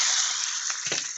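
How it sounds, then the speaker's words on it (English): Omelet cooking in a pan gives off a soft, steady hiss of sizzling, faint and continuous with a couple of small crackles. "And let that other side sizzle for a while."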